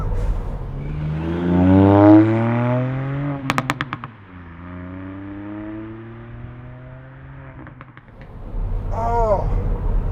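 A Ford Fiesta ST with a 1.5-litre three-cylinder engine accelerates hard. The loud, close engine note climbs in pitch through a gear, drops at each shift with a crackle, then climbs again.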